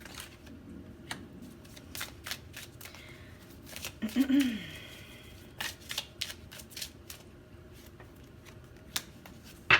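Oracle cards being drawn and shuffled during a card reading, with quick crisp clicks and snaps of card edges scattered irregularly, close and fairly quiet, alongside a brief faint voice.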